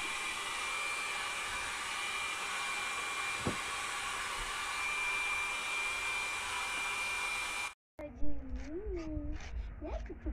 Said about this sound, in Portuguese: já foi secado com secador